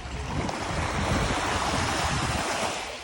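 Calm sea waves wash in a continuous broadband hush on Chaweng beach, Samui, steady and moderately faint with some wind rumble against the microphone and no voices.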